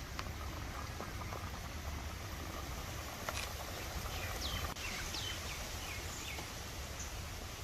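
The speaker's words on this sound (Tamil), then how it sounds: "நண்டு வேகிறதுக்கு கொஞ்சமா தண்ணி ஊற்றிக்கலாம்" Crab pieces simmering in a little water for Chettinad crab masala, giving a faint, steady bubbling and crackling patter with small sizzling ticks, close and quiet with no talk.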